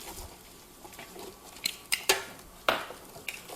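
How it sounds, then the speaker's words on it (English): Utensil scraping and clinking in a pot of brisket sauce with onion soup mix, quiet soft stirring with several brief sharper metallic taps. "Armin, if you could just give this a stir"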